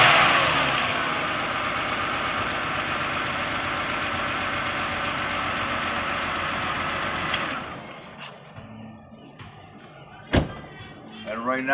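BMW 328i xDrive SULEV engine idling steadily and close for several seconds, then cutting out, followed by a few faint knocks and one sharp thunk near the end.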